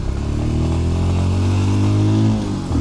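A Royal Enfield Scram 411 motorcycle is ridden at full throttle, a loud, close engine drone that climbs steadily in pitch for a couple of seconds before easing off.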